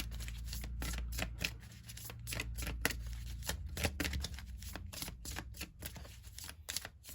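Close, crisp riffling of tarot cards being shuffled, quick repeated flutters and soft slaps in an uneven rhythm, with no talking.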